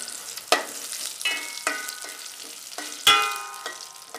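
Curry leaves dropped into hot oil to temper a traditional South Indian sambar crackle in short, sharp bursts, with two louder spits and gentler sizzling between them, close up and with no talking.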